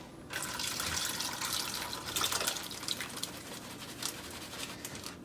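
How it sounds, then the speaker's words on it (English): Liquid marinade pours steadily into a freezer bag holding flank steak for carne asada, a continuous close splashing trickle lasting several seconds with no talking. "I'm going to pour this marinade directly into the freezer bag."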